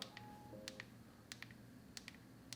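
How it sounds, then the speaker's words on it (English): Clicky power button on a Google Pixel 9 Pro fitted with a Crave Dual Guard case, pressed several times in quick pairs of crisp, faint clicks, close and isolated in a quiet room. "So starting off the power button in 3, 2, 1."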